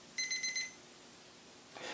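An SKLZ workout interval circuit timer sounds its alarm: four quick, high-pitched electronic beeps in a rapid burst, fairly faint and alone, then quiet room noise.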